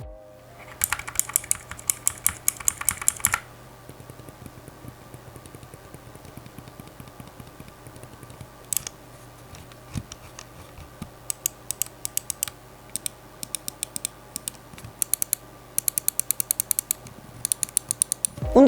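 Mouse buttons with a mix of silent and blue switches being pressed, with a burst of rapid crisp clicks at the start, then quieter intermittent clicks and scattered sharp taps in a quiet room.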